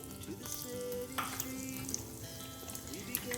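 Black mustard seeds and a little fennel frying in hot oil, a soft steady sizzle with faint crackles and light stirring, quiet and close.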